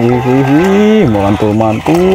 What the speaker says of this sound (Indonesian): Wih, ada sapi ngamuk teman-teman.